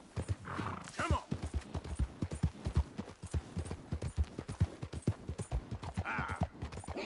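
A horse in the video game Red Dead Redemption 2 trots along in rhythmic, close clip-clop hoofbeats, with a whinny near the start and a rider's voice talking over the steps.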